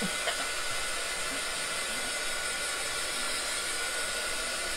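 A hair dryer blows steadily on chalk paste on a leprechaun craft project, a loud, constant whooshing hiss filling the whole stretch with no pauses or voices.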